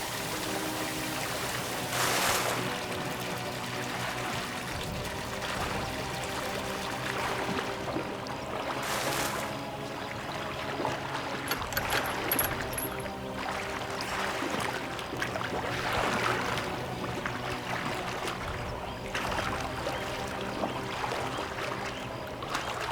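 Water pouring and flowing steadily in a laboratory setting, a continuous rushing wash with splashy surges throughout, moderately loud and without speech.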